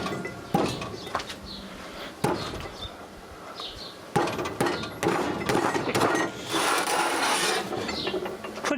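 A small homemade screw press squashing a lithium polymer battery cell gives off close mechanical creaks, ratcheting clicks and grinding scrapes in uneven bursts, with no speech.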